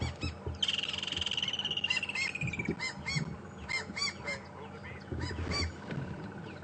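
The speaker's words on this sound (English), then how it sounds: "we have the white-crowned, southern white-crowned shrike calling in the tree, the marula tree behind us" Southern white-crowned shrikes calling from a marula tree on a game reserve: a busy chorus of harsh, nasal chattering and squeaky notes, fairly close and continuous, with a vehicle-like hum underneath.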